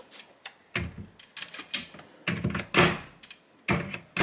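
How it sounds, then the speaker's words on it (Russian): A cabinet door with a magnetic catch in a home kitchen being pushed shut: a series of close, dull thunks and knocks at uneven intervals, several in a row, with no talking. "Что-то вот дверь так плохо закрывается."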